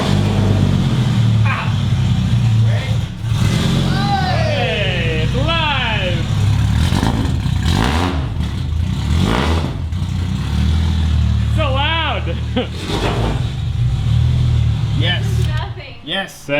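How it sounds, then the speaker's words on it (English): A 600-horsepower Lexus SC300 with a swapped 1JZ engine rumbles loudly nearby and rises in a few sharp rev bursts, heard beneath people talking throughout. "We're gonna start up the Lexus."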